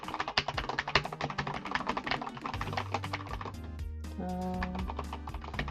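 Rapid, uneven clatter of fingers typing on a computer keyboard, close and fairly quiet, with bursts of keystrokes and short pauses while playing a geography quiz.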